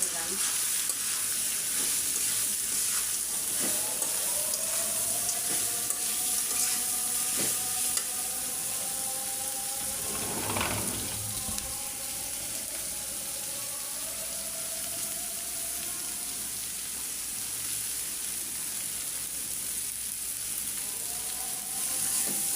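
Bitter gourd frying in a pan with green chili and onion for a spiced karela bhaji, giving a close, continuous sizzle with a brief burst of louder hissing near the middle.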